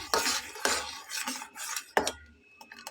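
Spoon scraping and clinking against a pot while sugar is mixed into a kaon rice dessert, several short metallic strokes in an irregular rhythm, close and fairly quiet.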